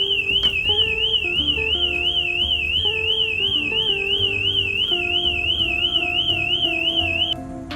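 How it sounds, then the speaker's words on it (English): A bike anti-theft alarm built into a brake rear light shrieks with a loud, rapidly warbling siren tone, steady and continuous for several seconds before cutting off abruptly near the end. "the alarm will trigger"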